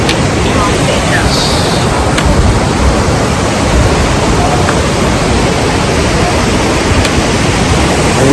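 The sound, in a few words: river flowing nearby on Yamunotri route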